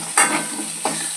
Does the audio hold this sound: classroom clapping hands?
no